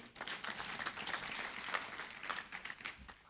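Applause from the audience at a TEAU University graduation ceremony, crackling clapping of moderate loudness that flickers unevenly across a few seconds, somewhat distant and thin.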